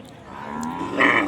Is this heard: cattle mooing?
yes